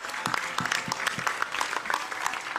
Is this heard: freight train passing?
no